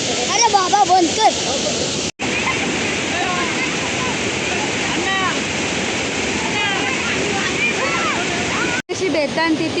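A waterfall pours in a steady, loud broadband roar that fills the scene, with brief breaks and people talking over the rushing water.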